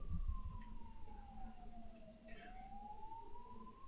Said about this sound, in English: The ambulance is coming back again?